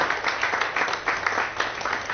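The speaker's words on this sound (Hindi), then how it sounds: "और एक बार जोरदार तालियां आपके लिए" Applause from the audience at an MSME lending business conference talk, a steady dense patter of many hands clapping throughout the short stretch with no voices on top.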